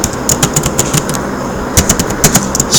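Fingers type on a computer keyboard in quick bursts of sharp plastic clicks, pausing briefly between clusters of keystrokes, close and fairly loud over a faint background hum.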